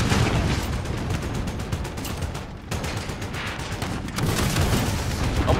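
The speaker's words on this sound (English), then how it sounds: "I didn't know I could shoot that many rockets" Rockets fire in rapid succession in a first-person shooter video game, a loud dense barrage of repeated blasts and booms with a brief lull midway before resuming.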